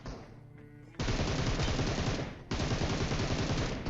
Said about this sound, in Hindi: तो ये मकान के अंदर से बंदा फायरिंग करता है मेरे टीममेट के ऊपर